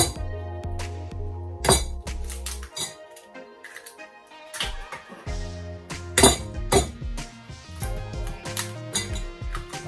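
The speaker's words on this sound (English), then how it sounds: "I'm gonna start off by whisking my eggs into this. Yes, guys. Go ahead and crack those eggs." Eggs cracked into a bowl and whisked for a coconut shrimp batter: irregular sharp clinks and taps of shell and utensil against the bowl, clustered bursts with short pauses, close and fairly loud, no talking.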